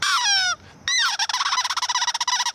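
Generic seagull calls: a run of loud, harsh descending cries, then a brief gap and another long cry followed by a rapid series of clipped, repeated squawks, close and alone.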